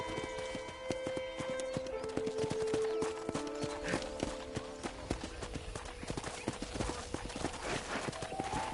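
A horse in the video game Red Dead Redemption trots with rhythmic, close clip-clop hoofbeats that continue steadily throughout, over a faint tonal game backdrop.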